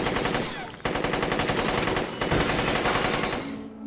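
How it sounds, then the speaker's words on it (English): Rapid automatic gunfire in the shooter game S.T.A.L.K.E.R., a dense, sustained burst of close shots rattling for several seconds before cutting off abruptly, with no voices. "He's not gonna hit anything with that gun."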